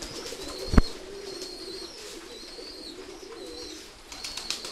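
Pigeons coo in low, repeated murmuring phrases nearby at a pigeon farm, with a single sharp knock early on and faint chirps above.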